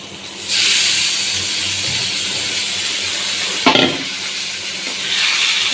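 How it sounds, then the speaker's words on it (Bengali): Rice tipped onto fried lentils sizzles and hisses steadily in a hot pan, a continuous loud frying wash with one brief clatter of stirring midway. "ডাল আমার ভাজা হয়ে গেছে বা দিয়ে দিলাম চাল"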